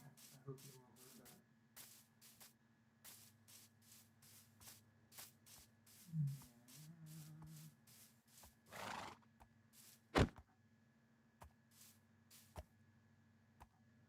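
A horse in a video game gives a short whinny in the middle of quiet game sounds, with brief clicks, a spray-like burst and a sharp snap; no voice is heard.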